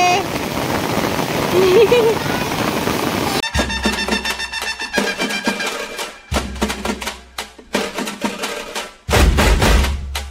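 Sudden rain falling near a stream in a village, a loud, steady rush of downpour, then broken into bursts with loud low rumbles and thumps, close by.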